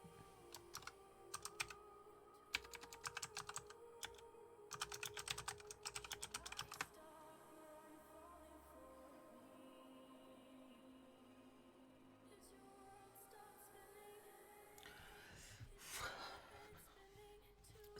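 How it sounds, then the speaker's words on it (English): A loud computer keyboard clatters in quick bursts of close, crisp keystrokes, followed by quieter stretches with faint background sounds. "Do you like hearing the ASMR of my very loud keyboard?"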